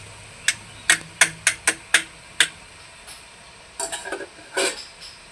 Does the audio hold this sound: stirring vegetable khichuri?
yes